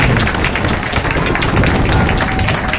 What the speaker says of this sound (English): we just ask that you give the Most High a hand clap for our brother Ronald